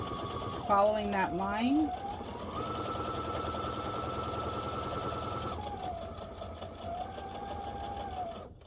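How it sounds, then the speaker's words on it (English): A regular sewing machine with a standard foot stitches a crocheter's project bag, running in a steady whirring hum for several seconds with a brief shift in pitch partway, under a voice talking briefly at the start. "I'm just going to use my regular sewing machine and a regular sewing foot, and we're just going to sew"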